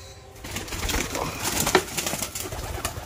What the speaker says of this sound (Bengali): এই দেখুন এটা পায়রা।